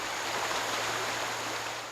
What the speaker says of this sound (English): They do like areas where there's riffles, just as we hear from this shoal right here.